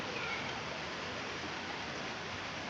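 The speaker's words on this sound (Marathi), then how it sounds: "चांगलाच पाऊस पडत आहे" A steady, even hiss of heavy rain falling, constant throughout with no other distinct sounds.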